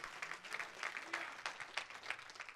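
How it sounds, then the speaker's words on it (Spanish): Congregation clapping during a Spanish-language church service, a brief burst of scattered applause that stays soft and somewhat distant. "Denle un fuerte aplauso al Rey de la Gloria."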